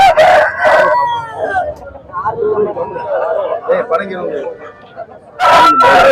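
A rooster crows loudly near the start and again at the end at a rooster and goat market, with people chattering in between.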